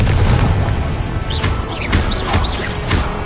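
Repeated fire-spell blasts in Hogwarts Legacy on PS5, loud booming bursts roughly every half second layered over dense game effects and shimmering magical tones, with no speech.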